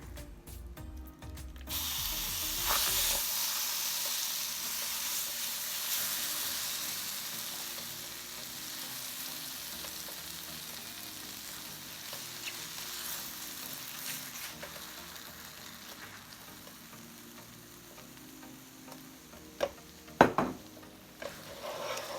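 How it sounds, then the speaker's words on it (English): Black bean filling for vegan tacos frying in an oiled, preheated pan, a steady close hiss of sizzling that runs the whole time, with a few clattering scrapes of stirring near the end and no talking. "I'm going to add a bit of oil, and then I'm going to start cooking my filling in the pan"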